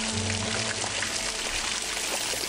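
Water sprays in a steady rushing stream onto a prisoner in the game Polda 2, a continuous hissing pour with a faint low hum underneath and no talking.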